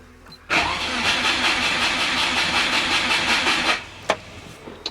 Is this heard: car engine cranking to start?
yes